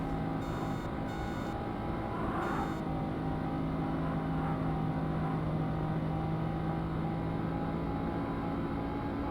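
Engine drone from a sports car in the 3DO racing game The Need for Speed, a steady unbroken hum, with a few short electronic beeps early on.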